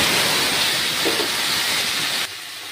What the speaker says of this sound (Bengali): এবার আমি ডাঁটা সহ আলু আর কুমড়োটা দিয়েছি।